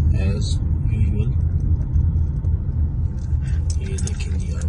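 Rumbling car engines and road noise from morning commuter traffic backed up at a signal on the way from home to office, with a person talking over the steady drone.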